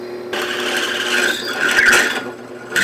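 A close, steady grinding rasp as a JET J2500 drill press bit bores into wood, rising slightly in intensity before cutting off near the end.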